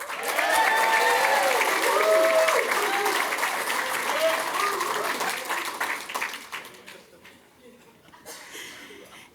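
Crowd at a Democratic National Convention event in Chicago applauding loudly with scattered voices and cheers, then the clapping thins out and fades to a few scattered claps.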